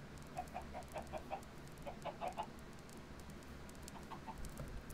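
Several Minecraft video game chickens give soft, quick clucks in scattered clusters, faint and somewhat distant, with no talking.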